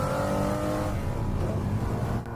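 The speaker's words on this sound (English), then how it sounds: "it's time for you to accelerate, to see what this V12 has in store for us" A McLaren F1's V12 engine pulls hard, its pitch climbing smoothly and loudly as the revs rise, then easing near the end, with no talk.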